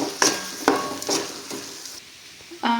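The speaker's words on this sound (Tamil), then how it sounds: "இப்போ எல்லாமே போட்டு மிக்ஸ் பண்ணிடலாம்" Fried rice being stirred with soy and tomato sauce in a pan, a few rhythmic scraping strokes of a utensil against the pan over a light sizzle.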